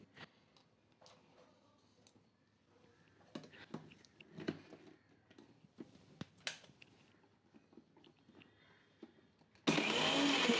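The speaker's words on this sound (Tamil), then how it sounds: "இப்போ மசாலா அரைச்சிட்டோம்" A mixer grinder starts up abruptly and roars loudly at the very end, grinding spicy fish fry masala paste for vanjaram fish, after a stretch of quiet kitchen clicks and taps.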